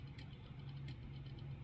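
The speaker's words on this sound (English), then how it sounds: "like delivery trucks or something like that in the distance." Delivery trucks rumble low and faint in the distance near a lake in the early morning, a steady engine drone with no voices.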